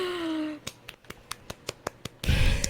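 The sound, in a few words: hand clapping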